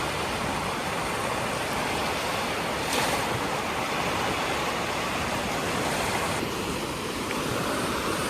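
Sea waves breaking on a beach in Spain, a steady broadband wash of surf with a swell of crashing water around three seconds in, continuous and fairly loud with some wind, no voices.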